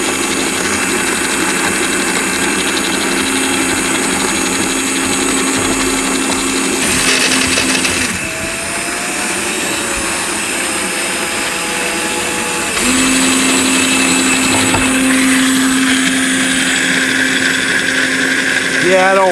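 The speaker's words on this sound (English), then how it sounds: "one gearbox is making a lot of noise" A John Deere Gator HPX utility vehicle runs in first gear with one noisy gearbox, a loud continuous engine drone and gear whine that shifts pitch partway through, with a voice speaking over it.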